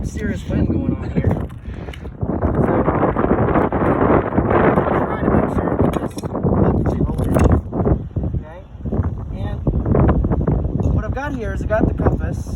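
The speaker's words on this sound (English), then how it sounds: "hopefully we got some serious wind going on here" Strong outdoor wind buffets and roars across the microphone in continuous loud gusts, rising and falling throughout, with no voices.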